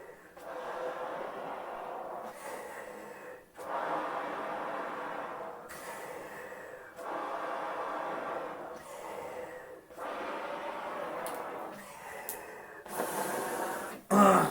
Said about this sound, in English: But this is how I get my breathing warm up every day.